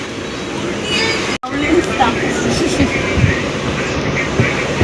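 Inside a moving passenger train in India, a low, continuous rumble and rattle of the carriage fills the space, with a brief dropout and people talking over it.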